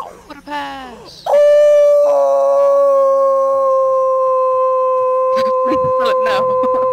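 A dog howls in a long, sustained, tonal wail that holds steady for several seconds, loud and close, with brief voices and whoops around it at the start and end.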